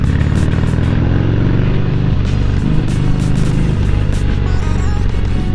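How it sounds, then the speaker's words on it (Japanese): A 1991 Harley-Davidson FXRS Convertible on the road, its engine droning loud and steady with a constant low rumble and wind rush, heard from the rider's position without pause. "今ねバイク乗ってます。"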